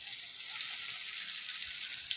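Ingredients sizzle in very hot oil while being fried for sate plecing, a steady close hiss and crackle with no talking.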